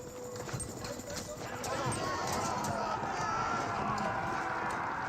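Cavalry in Age of Empires 4, lancers and riders advancing, gallop in a steady clip-clop under a commentator's continuous talk, with a faint whinny and battle clatter in the background.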